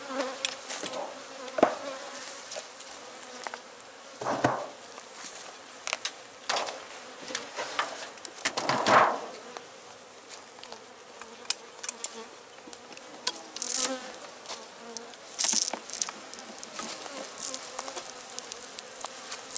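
Honey bees buzz steadily at a strong beehive in an apiary, a dense close insect hum with individual bees passing near and away, no voices.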